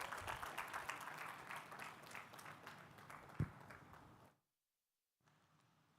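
Audience applause at a career fair session, a steady wash of many hands clapping that fades out partway through, followed by a brief silence and then faint room noise.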